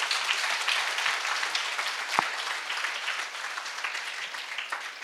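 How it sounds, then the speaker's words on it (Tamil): College audience at a student talk event giving sustained applause for a speaker, a steady wash of many hands clapping at moderate distance throughout, fairly uniform in loudness. "ஒரு பெரிய கைத்தட்டல் கொடுத்துடலாமா?"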